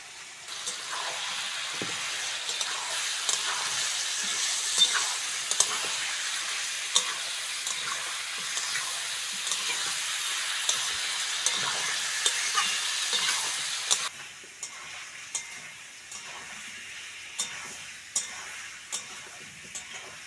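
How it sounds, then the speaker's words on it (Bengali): Chicken pieces with potato and onion fry and sizzle in a pan while being stirred for a chicken curry, a steady loud hiss with frequent scraping stirs, easing quieter near the end; no talking. "পেঁয়াজের সঙ্গে আলু আর চিকেনটা ভালো করে কষে নিয়েছি"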